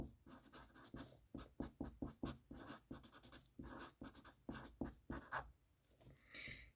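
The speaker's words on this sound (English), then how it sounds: "you're going to write the name of your topic in the middle" A pen writes on paper at close range, filling in the central topic of a spider diagram of musical elements with quick scratchy strokes in bursts that run steadily throughout.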